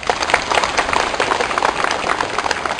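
A congregation on a Catholic pilgrimage at Hai Duong church claps together in a loud, continuous burst of applause, dense and close, with no speech over it.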